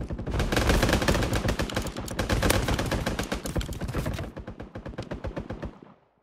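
Rapid automatic gunfire from a shooting video game played on a 3DS, loud continuous bursts for about four seconds, then thinner spaced shots trailing off into silence.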